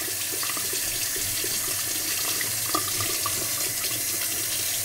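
Hot water running steadily from a bathroom sink tap, a constant broadband rush with no pauses, close and fairly loud, used for rinsing a heated razor.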